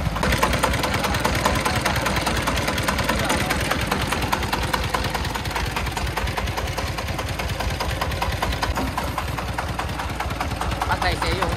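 A homemade công nông cart truck for hauling sand, fitted with a 24 engine, runs steadily up close with a fast, even chugging knock that carries loud through the whole stretch.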